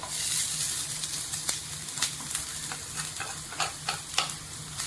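Half a coconut roasting in a pan with browned onions for a mushroom xacuti: a steady close sizzle with repeated scraping stirs and small ticks throughout.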